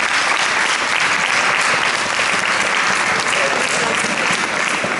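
Steady, dense applause from an audience at a fencing exhibition in Zafra, a loud continuous wash of clapping that holds for several seconds without pause.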